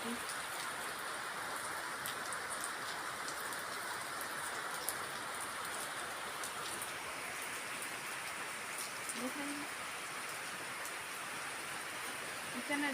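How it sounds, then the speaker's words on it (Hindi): Steady, dense rainfall hisses continuously on surfaces, a heavy even downpour with no letup and no voices. "आज तो छम बारिश हो रही।"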